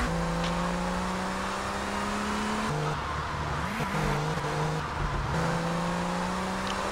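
Komet sports car from GTA Vice City driving, with a steady engine drone that shifts pitch through gear changes and throttle lifts, a brief tire squeal during a drift midway, continuous and close.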